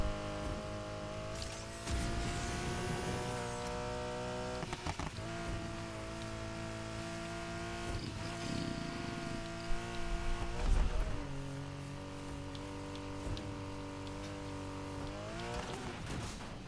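An all-wheel-drive Lancer racing in the video game NFS Heat: a steady engine drone climbs and drops through gear changes, with brief tire squeals on cornering and no talk.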